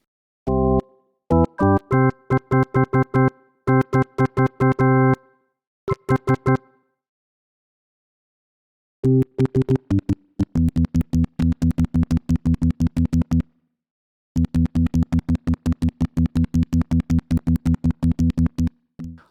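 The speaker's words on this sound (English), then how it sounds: "The contact click is now much more realistic." Short, sharp notes from a B5 Organ V3 virtual organ in quick rhythmic runs, each with a crisp percussive key contact click at its onset, separated by brief silences.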